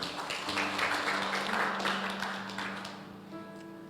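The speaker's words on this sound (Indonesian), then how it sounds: "tepuk tangan buat Tuhan" A church congregation at GBI Imanuel Aviari Plaza Batam claps together in a steady wash of applause that fades after about three seconds, with a faint electronic hum underneath.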